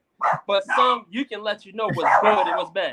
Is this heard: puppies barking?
yes